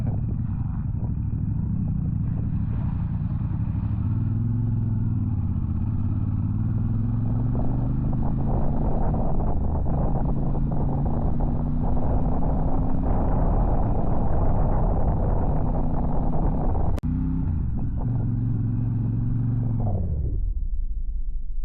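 CF Moto 450 MT motorcycle ridden off-road in the countryside: a continuous close engine rumble with rising and falling revs as gears shift, ending as the engine dies away.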